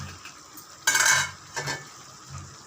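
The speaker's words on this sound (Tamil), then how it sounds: "அரைச்ச விழுத சேர்த்தாச்சு. நல்லா கலந்து விட்டுடுங்க." A spoon stirs ground tomato paste into chicken gravy in a pot: a sharp scrape and clink against the metal, then a softer second stir and a faint third, quiet and close.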